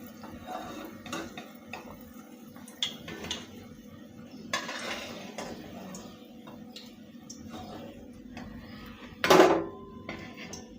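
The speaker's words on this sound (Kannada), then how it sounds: "ಈಗ ನಾನು ಬಜ್ಜಿ ತೆಗಿತಾ ಇದ್ದೀನಿ." Fried jackfruit bajji lifted from a pan of hot oil with a metal utensil: sparse light clinks and scrapes, then one louder clatter near the end, all fairly close.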